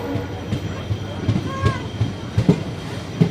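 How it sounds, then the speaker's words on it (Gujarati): The Okha-Bhavnagar Terminus Express pulls into Rajkot station with a low rumble, periodic wheel clacks and a brief squeal, while someone speaks over the noise. "આપણી ગાડી રાજકોટ આવી ગઈ છે પ્લેટફોર્મ નંબર ચાર ઉપર"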